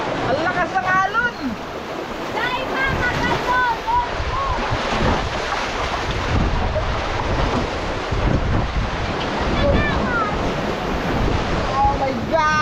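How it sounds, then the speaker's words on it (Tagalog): Big ocean waves surge and crash along the shore, a loud ongoing roar with wind noise, while people talk and shout excitedly over it. "Ang lakas ng alon."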